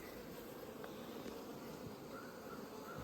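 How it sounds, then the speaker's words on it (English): Bees swarm in a beehive fitted with supers, a dense, steady buzzing hum heard close and continuous throughout. "there's a lot of bees in there."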